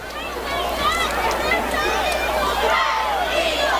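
A loud crowd fills the stands at a high school football game between Valley View and Greene County Tech, with steady dense cheering, chatter and shouts throughout, and a voice talking within the din.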